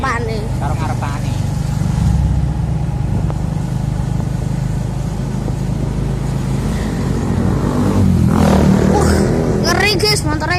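A motorcycle rides along a road near a bus terminal with a continuous engine drone and wind rush, while people chat over it throughout and brief higher whines near the end.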